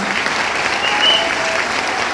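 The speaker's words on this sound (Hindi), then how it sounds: "ताली बजाए तो जोर से बजाए, वरना मत बजाए" Audience applause at a business leadership event fills the space with steady, loud clapping from a large crowd, continuous and dense throughout with no voices on top.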